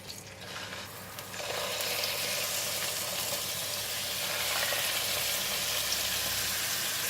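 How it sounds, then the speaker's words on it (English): Squid sizzling in two tablespoons of cooking oil in a pan for grilled squid, a faint hiss that swells into a steady, dense frying crackle after the pieces go in, continuing without talk. "I just put 2 tablespoons of cooking oil and we're going to put in the squid"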